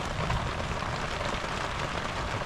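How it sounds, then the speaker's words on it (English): Heavy rain drums steadily on a sailboat at anchor during a thunderstorm, a dense, continuous broadband hiss and patter with no letup, loud and close throughout. "Thunder and lightning today, heavy rain"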